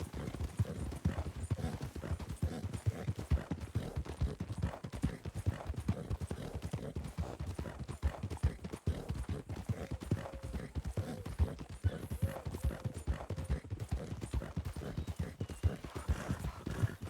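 A horse cantering in the video game WildRP, rapid rhythmic clip-clop of hooves continuing steadily and close, alone without talk.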